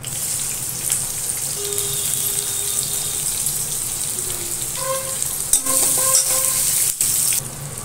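Curry leaves and chopped onion sizzle and fry steadily in a pan on medium heat, a continuous crackling hiss with a few brief clinks and scraping stirs near the end.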